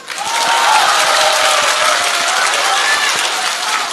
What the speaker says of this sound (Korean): 박수 이때 쳐야죠